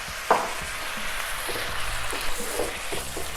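Onions, peppers, garlic and soy sauce stir-frying in a hot wok for a chicken noodle dish: constant loud sizzle with scattered clanks and scrapes of tossing and stirring.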